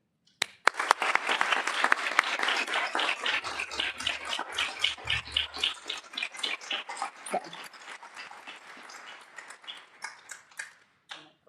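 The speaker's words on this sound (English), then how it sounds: "So be ready for a giant round of applause" At a school board meeting, a burst of applause starts abruptly, dense and loud clapping from the room that thins into scattered individual claps before dying out, with a low murmur underneath partway through.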